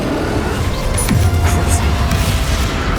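Explosive spell blasts from Hogwarts Legacy, with dense rumbling booms and crashes rolling continuously over a loud game soundscape, a low swooping impact landing in the middle.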